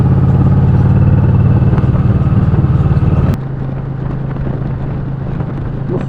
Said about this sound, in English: Must have been about 10 bikes just gone past me then.